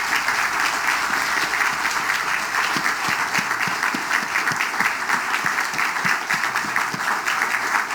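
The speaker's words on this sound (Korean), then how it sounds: "여러분 모두 다 한번 일어나셔서 우리 건축위원들을 박수로 한번" A church congregation at a Sunday evening service stands and applauds its building committee, a steady sustained wash of clapping from many people with a few individual claps standing out.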